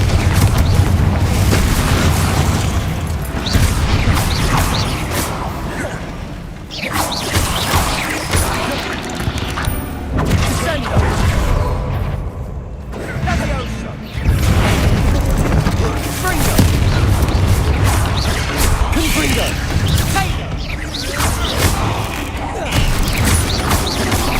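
Fiery Confringo spell blasts from Hogwarts Legacy, cast while fighting spiders, burst as loud repeated booms in a dense, continuous wash of game noise, with brief dips between volleys.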